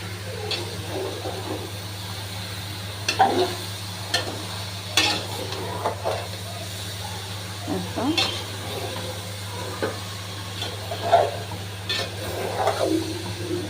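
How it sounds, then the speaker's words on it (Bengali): A dried shrimp and raw jackfruit curry is stirred and mixed with salt in a pot, making intermittent scrapes and soft clatters over a low steady hum, with faint talk nearby. "নেড়ে চেড়ে মিশিয়ে দিচ্ছে লবণ দিয়ে"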